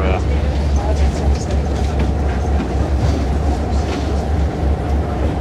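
A commuter electric train riding through Italy rumbles loudly and continuously, with a rhythmic clatter of wheels over the rails heard from inside the carriage.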